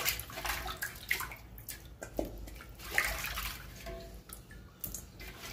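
Running water splashes steadily while raw fish pieces are rinsed in a kitchen for fish fry and gravy, a continuous close wash with small drips and surges and no talking.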